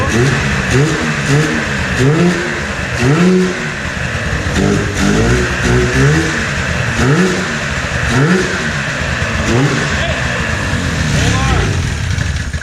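An old Ski-Doo snowmobile, revived after more than five years unused, revs hard inside a smoke-filled garage in repeated rising surges over a steady idle, with people talking nearby.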